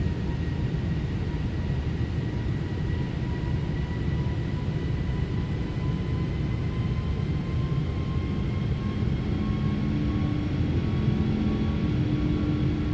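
Boeing 777 with Rolls Royce Trent 800 engines on landing approach in the X-Plane 12 simulator, a steady low engine rumble and whine that stays constant and close throughout, with no talk.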